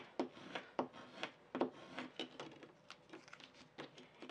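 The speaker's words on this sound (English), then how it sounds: "I like to really scrape down both sides just to really get it sticking on there." Adhesive transfer material is scraped down onto a surface with a tool, giving repeated short rubbing and scraping strokes in an uneven rhythm, close and fairly quiet.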